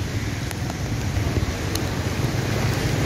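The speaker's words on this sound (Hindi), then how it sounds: "बरसात के साथ तेज हवा भी है" Strong wind during heavy monsoon rain near Malad and Malwani, Mumbai, roars steadily and close, buffeting the microphone in a constant rough rush.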